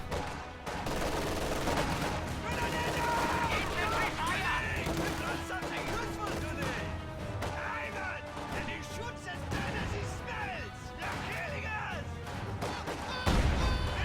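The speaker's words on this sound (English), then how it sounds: "The mortar is bombarding the cutoff" Mortar bombardment and gunfire in a real-time strategy video game, a dense, continuous battle din of scattered bangs and rattling shots running throughout, with game voices cutting in now and then.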